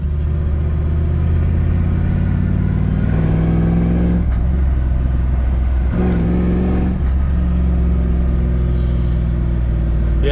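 A car fitted with a 460 Ford-based 532 cubic-inch stroker engine with roller cam, EFI and 37-inch tires on stock gears, rumbling loudly up close as it accelerates and revs, with brief lifts in the throttle midway.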